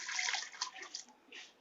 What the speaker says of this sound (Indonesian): Langsung kita siram langsung ke pohonnya.